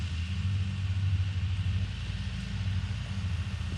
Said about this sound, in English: The guy coming in with the big truck.